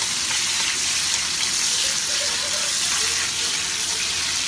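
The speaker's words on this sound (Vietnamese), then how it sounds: "Mình xào cà nha các bạn." Tomatoes being stir-fried in a pan give off a continuous, loud sizzling hiss that holds steady throughout, with no clear voices over it.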